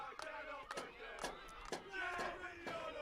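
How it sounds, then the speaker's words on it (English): Crowd at a college football championship between Oakland City and WVU Tech cheering and shouting in a steady roar, with repeated sharp bursts of cheers rising over the din at close range. "Get back to midfield, and you hear the crowd. It is a celebratory crowd here at Gable"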